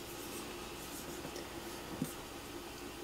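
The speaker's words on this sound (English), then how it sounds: "Then we would write it" A pen or pencil scratches out a short spelled word by hand on paper, a faint, soft scraping under a quiet room hum, with one small tap near the middle.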